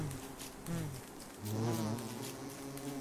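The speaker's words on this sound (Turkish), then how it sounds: "Yaban arıları var." Wasps buzz in Don't Starve Together, a close insect drone that swells and fades in waves and stays continuous, with no talking.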